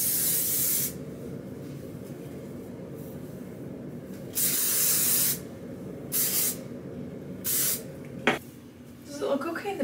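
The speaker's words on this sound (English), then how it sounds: "I'm gonna spray it down." Hairspray sprayed onto curled hair, several separate hissing aerosol bursts of about a second each, close and loud, with quieter room sound and small handling noises between them.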